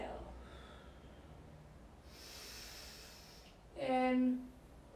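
A breathy exhale through the nose or mouth during a yoga flow, a soft hiss that swells and fades, followed by a brief spoken voice nearby.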